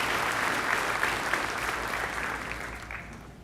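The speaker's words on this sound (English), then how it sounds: "A round of applause for all of our stage parties" Commencement audience applauding the stage party at a Saturday afternoon graduation ceremony, a dense, steady wash of clapping from a large hall crowd that holds for several seconds and fades slightly at the end.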